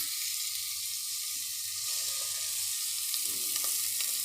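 Ground coconut paste from the mixer hits a hot pan with fried shallots, giving a soft, steady sizzle with faint stirring clinks, fairly quiet and unbroken throughout.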